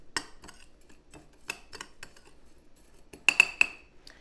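Sugar is mixed in a bowl with a run of light, irregular metallic clinks and taps against the dish, ending in a brighter cluster of ringing clicks.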